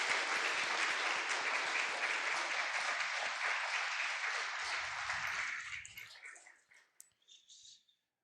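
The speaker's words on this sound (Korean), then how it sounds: "박수 좀 부탁드리겠습니다." Congregation applauding at a church inauguration ceremony, a dense sustained round of clapping that holds steady and then thins out and fades near the end, leaving a few scattered claps.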